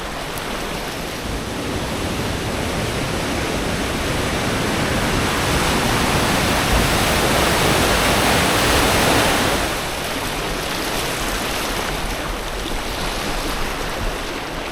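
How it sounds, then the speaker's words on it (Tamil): River water released from the Vaigai dam rushes in a continuous, loud broadband roar, close and unbroken throughout, with no voices over it. "வைகை ஆற்றுலேருந்து வரக்கூடிய இந்த தண்ணி"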